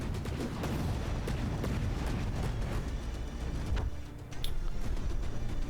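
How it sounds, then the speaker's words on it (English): Loud, dense battle rumble from a From the Depths battleship fight, heavy low booms rolling continuously with a sharper blast burst near the end. "Ooh, big explosion."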